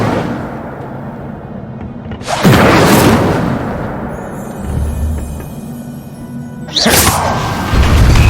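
The Incendio fire spell in the Hogwarts Legacy video game erupts in two loud whooshing, booming bursts several seconds apart, set over a steady low background rumble.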